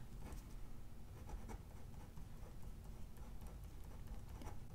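A Shuttle Art InkGlide pen writes in a Big Happy Planner, giving soft, close scratchy strokes with faint ticks repeating steadily against a low background hum.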